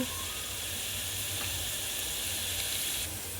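Mustard seeds, cumin and dried red chillies sizzle in hot oil for a tempering, a steady bright hiss with faint crackles holding evenly throughout.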